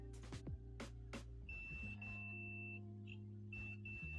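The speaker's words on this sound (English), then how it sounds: "when there is a pass-through on here, it will beep" A multimeter in continuity mode gives a steady high electronic beep in two long stretches with a short blip between, preceded by a few brief clicks and low hum, while testing a fuse on a PS4 Blu-ray drive board.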